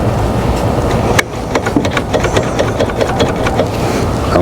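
A Ford Pinto engine in a kit car left sitting outdoors since 1995 runs roughly at idle with an uneven, ticking pulse after a sharp change in tone, close and steady with no talk.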